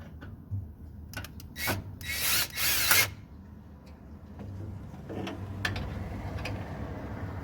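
A power drill drives a T30 bit while Jeep fog lights are installed, giving a few short whirring bursts with a longer burst in the middle, mixed with clicks and handling noise nearby.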